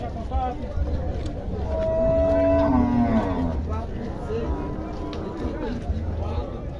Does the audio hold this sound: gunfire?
no